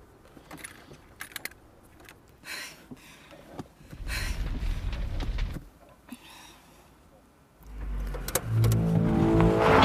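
A car engine revs up and accelerates away, a loud rising roar near the end after earlier rumbling and jingling clatter, in a tense roadside getaway beside a crashed stepmother's car in a drama.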